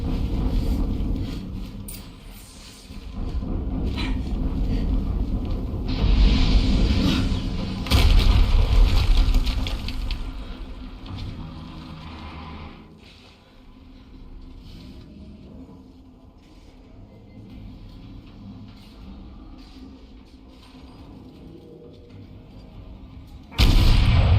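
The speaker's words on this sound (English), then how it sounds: "Another explosion." Video game explosions booming in heavy low rumbling bursts, loudest early on, then fading to quieter mechanical clatter before a sudden loud blast at the end.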